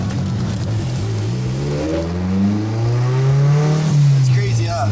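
A big-turbo performance car accelerates hard through the gears, engine tone climbing steadily with a brief shift and renewed pull, heard from inside the cabin beneath people talking.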